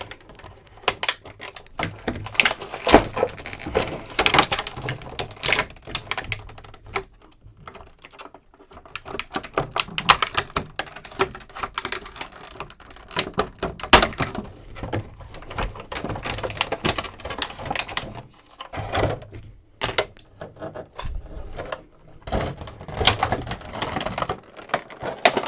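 Blades and hands work a Star Wars Rebels Phantom 2 micro toy vehicle free from a tightly stuck plastic packaging tray, giving irregular close crackling, snipping and clicking that continues for about twenty-five seconds with no talking.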